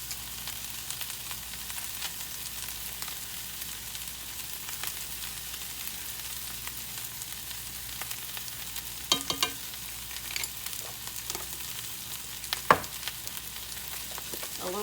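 Brussels sprouts and tuna fry in a pan with a soft continuous sizzle and occasional crackles and stirring clicks, close and steady with no voices.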